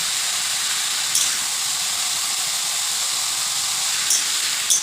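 Whole garlic cloves, slit green chilies and onion sizzle in hot oil in a pan, a loud steady hiss with a couple of sharp crackles, no voices.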